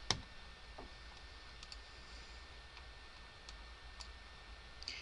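Sparse, faint computer mouse clicks and a few light keyboard taps in a quiet room, the sharpest click at the start, then scattered soft ticks spaced across several seconds with no voices.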